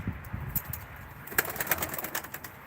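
Soft pigeon coos and bird calls in a quiet space, with faint flutters and rustles; no one speaks. Birds held for a pigeon auction in Ankara.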